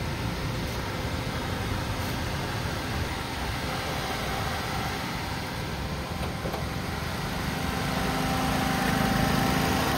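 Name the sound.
car engine idling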